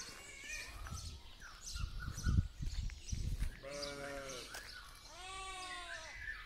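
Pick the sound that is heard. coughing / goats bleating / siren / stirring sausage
goats bleating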